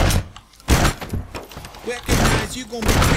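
Several loud, sharp shotgun bursts from the video game Postal III, spaced irregularly, with voices talking over the action.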